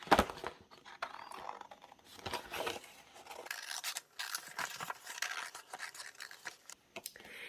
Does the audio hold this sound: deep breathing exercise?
no